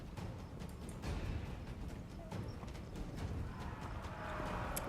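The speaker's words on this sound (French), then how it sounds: "J'entends comme des chevaux." Hooves clip-clop in a quick, irregular patter of several horses at moderate distance in the video game Total War: Arena, fairly faint, with no talking over them.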